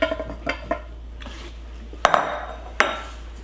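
Spoon clinking against a bowl while Granny Smith apples are stirred into cake batter, several sharp light knocks and scrapes spaced unevenly, close and clear with no talk.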